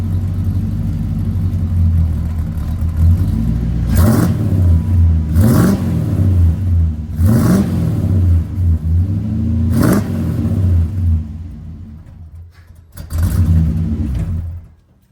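A 1987 Ford LTD Crown Victoria idles with a deep, throaty rumble through Flowmaster dual-tip exhaust, then revs sharply several times in bursts before settling and cutting briefly quieter.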